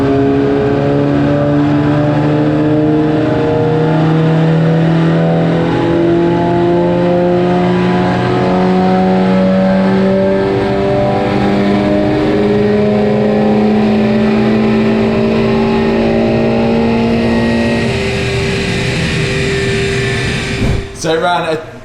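Tuned Audi TT Mk2 on a dynamometer, engine climbing steadily in pitch through a long sustained wide-open run before cutting off abruptly near the end, loud and close.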